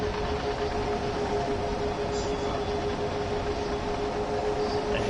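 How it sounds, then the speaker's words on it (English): A long freight train rolling past in the Train Sim World 5 simulator, on the Main-Spessart line, gives a steady, even rumble and hiss with a faint tonal hum throughout. "It's a long freight train."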